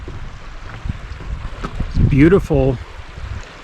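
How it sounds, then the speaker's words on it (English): Tarryall Creek, a tributary of the South Platte River in the Lost Creek Wilderness, flows with a steady, soft rush of water that stays under a person talking nearby throughout. "I am right along Tarryall Creek,"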